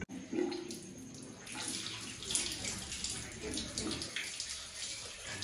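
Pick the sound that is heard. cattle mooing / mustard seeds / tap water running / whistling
tap water running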